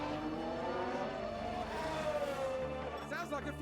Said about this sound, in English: Sounds like a few cars.